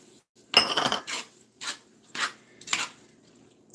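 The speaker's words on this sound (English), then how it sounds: "Go ahead and dump that bacon back in." Bacon is dumped from a utensil into a pot of beans and onions, giving several close, separate clanks and scrapes of metal against cookware with short pauses between them.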